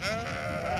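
A sheep on a livestock farm during lambing season gives one short, wavering bleat, fairly close and clear against a faint farmyard background.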